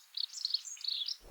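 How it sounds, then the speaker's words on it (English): A robin, a small red-breasted songbird, sings a continuous run of high, bright warbling phrases, fairly faint and alone, with a soft thump at the very end. "Robins are small birds with red chests. They sing beautifully in the morning."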